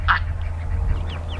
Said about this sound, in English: The ducks and the geese are playing in the swale.